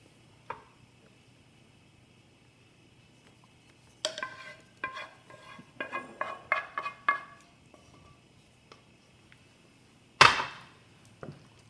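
Elbow macaroni being stirred into cheese sauce in a pot: a quiet stretch, then a cluster of close clacks and scrapes of a utensil against the pan, ending with one sharp knock.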